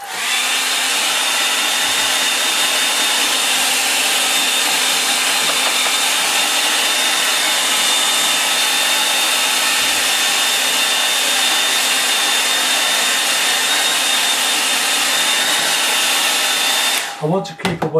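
A hair dryer drying a watercolour painting, blowing as a steady, loud, continuous whoosh with a faint whine for most of the time, then switching off abruptly near the end.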